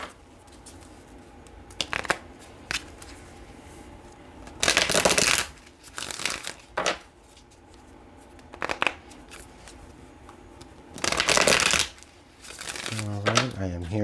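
Tarot cards shuffled in several distinct bursts of crisp riffling, close and fairly loud, separated by quieter stretches of low room noise.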